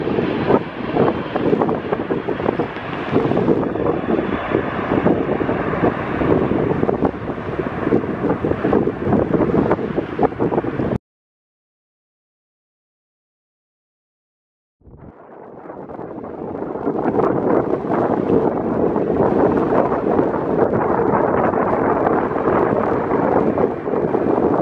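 Strong wind buffets a microphone outdoors at an aircraft spotting spot by Milwaukee's airport, a loud continuous rumbling roar that cuts out completely for a few seconds, then returns just as strong.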